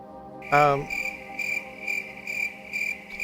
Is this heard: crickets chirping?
yes